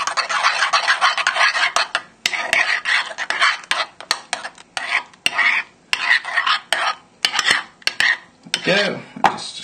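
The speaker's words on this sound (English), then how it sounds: "And we'll give that a whisk together, stir together with your spoon." Prawn cocktail sauce with tomato ketchup being whisked with a spoon in a bowl, a run of close, quick scraping and clinking strokes in uneven bursts with short pauses, no voices.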